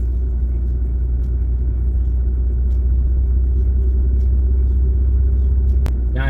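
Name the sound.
car gradually accelerating on open road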